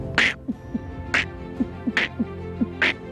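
A mimicry artist imitates a duck, voicing a rhythmic run of short nasal quacks mixed with sharp breathy bursts, like a beat-box pattern, close and clear with no other talk.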